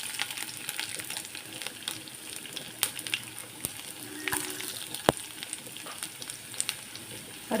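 Garlic drops into hot oil already crackling with mustard seeds and urad dal for paruppu urundai kuzhambu, a light steady sizzle with scattered pops and a few sharp clicks, close but fairly quiet, with no speech.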